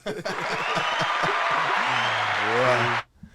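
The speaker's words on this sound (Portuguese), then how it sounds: "Uma salva de palmas pro nosso" Applause from a studio audience greeting a guest on a Brazilian podcast, a steady broadband wash of clapping lasting about three seconds with a voice talking over part of it before it stops abruptly.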